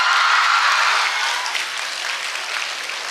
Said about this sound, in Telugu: మాధవీలత గారు కూడా క్లాప్స్ కొడుతున్నారు ఇప్పుడు